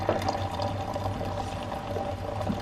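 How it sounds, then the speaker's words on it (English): Beer is poured slowly and gently into a glass to keep it from foaming, a close, continuous trickle of liquid heard alone for a couple of seconds. "Gotta pour it nice and easy so don't foam up now."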